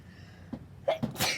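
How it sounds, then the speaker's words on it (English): A single sneeze bursts out at close range, a sharp intake followed by an explosive, noisy release, with quiet room tone before it. "excuse me, I had to sneeze."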